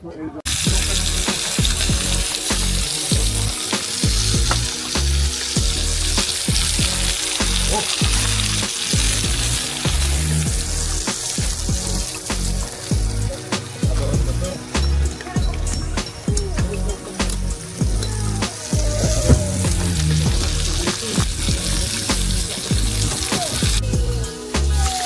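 Mang Inasal-style chicken grills over a campsite fire in British Columbia, giving a steady, close sizzle with crackling pops throughout and a faint voice now and then underneath.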